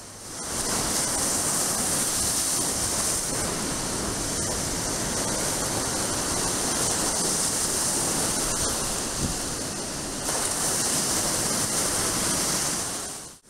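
Lake waves wash steadily onto a porous sand beach at Neys Provincial Park in Ontario, a loud, continuous hissing surf with no voices.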